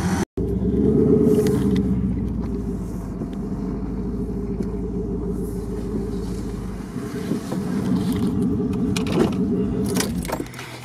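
A LuAZ off-road 4x4 drives along a rough trail, its engine a steady close low rumble with rattling body and loose-metal clatter throughout, briefly cut near the start, no talking.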